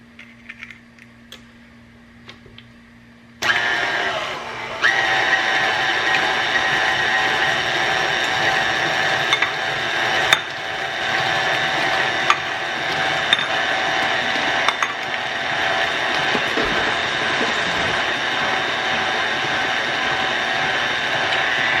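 Electric mixer beating eggs one at a time into creamy cinnamon streusel coffee cake batter, a steady loud whirring hum that starts abruptly and runs continuously with small clicks and bumps against the bowl.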